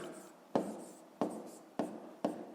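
A pen writes out a math solution on paper in four short, evenly spaced strokes, each a soft scratchy scrape, close and quiet with no talk.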